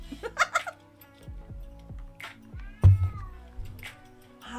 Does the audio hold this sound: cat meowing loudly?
yes